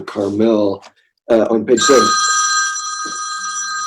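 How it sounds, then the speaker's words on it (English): A telephone rings with a sustained electronic trill during a regular board meeting, starting just after someone speaks and continuing loud and steady after his voice stops. "excuse my phone here."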